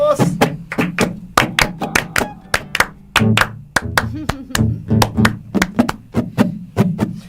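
People in a live AM radio studio clap their hands in a steady rhythm, with sharp, close claps repeating alongside voices throughout.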